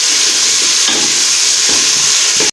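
Garlic and ginger paste frying for Karachi-style degi beef biryani, a loud, steady close-up sizzle and hiss with intermittent stirring scrapes, cutting off abruptly at the end.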